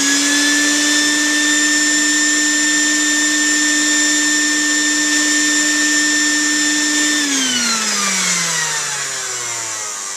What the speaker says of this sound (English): let me vacuum